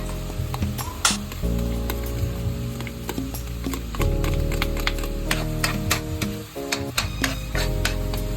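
Minced garlic sizzles in a hot pan as it cooks for a spicy garlic butter Cajun sauce, a loud, close frying hiss with crackles and intermittent clinks and scraping of a utensil stirring, no talking.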